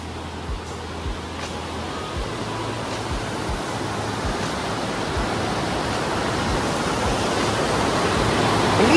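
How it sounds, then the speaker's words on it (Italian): Steady roaring waterfall rush in the Fanes valley of the Dolomites, a dense continuous wash of falling water heard close and loud without pause. "E lì ci deve essere un salto d'acqua fotonico"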